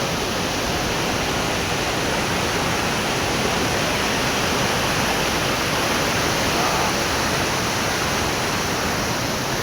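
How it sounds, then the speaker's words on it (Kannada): Heavy water pouring over Botanical Falls, a dense, constant roar of rushing water filling the whole scene without a break, loud and close with no voices. "ನೀರಂತೂ ತುಂಬ ತುಂಬ ಮಟ್ಟದಲ್ಲಿ ಹರಿತಾ ಇದೆ"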